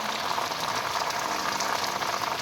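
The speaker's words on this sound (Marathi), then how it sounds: "आता आला पाऊस दुपारचा." Steady afternoon rain falling outdoors, a dense continuous hiss of drops on surfaces, even and unbroken throughout with no voices.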